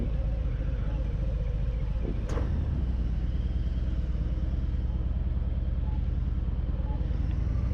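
A 2021 Harley-Davidson Fat Boy motorcycle on the move, its steady engine rumble and road noise loud and continuous throughout with no talking.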